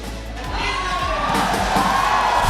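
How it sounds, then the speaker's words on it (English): Crowd cheering and whooping at a Mobile Legends esports playoff event in Malaysia, a loud sustained roar of many voices that swells steadily, with shouts rising above it. "What's this cheering?"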